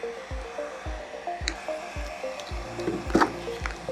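Heat gun warming paint protection film on a car hood, a steady airy blowing hiss close by, with soft ticks and crackles as the film loosens.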